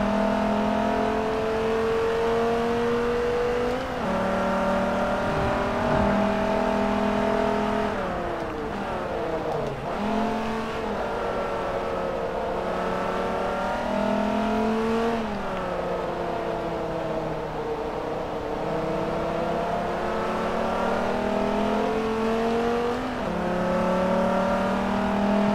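Race cars roar around a circuit in Forza Motorsport 3, engines held at high revs with repeated downshift dips and climbs through the gears, a loud continuous whine lasting the full stretch with no talking.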